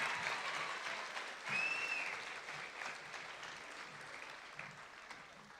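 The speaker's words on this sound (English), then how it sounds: "I'd like to give your parents a round of applause" An audience at a 2017 school graduation applauds for the parents, a fairly faint, distant clapping that swells briefly and then slowly tapers off, with a short high whistle near the start.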